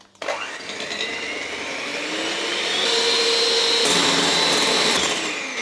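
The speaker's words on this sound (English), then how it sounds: "It goes in a bowl, and I'll mix it together until it becomes smooth but not too stiff." Fresh double cream being mixed in a bowl for a lemon limoncello tiramisu: a steady, loud motorized whir that rises slightly in pitch partway through and holds until the end, with no talking.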